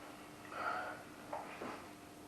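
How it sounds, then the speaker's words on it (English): A person takes a few short sniffs close up, smelling the aroma of a tropical pale ale from Beinn Brewing, with faint breathy inhales and no talking. "We're going to give it a whiff, see what we can sniff."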